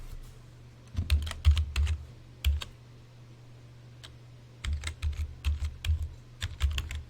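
Typing on a computer keyboard comes in two bursts of quick, close clicks and taps separated by a quieter pause, over a steady low hum with no talking.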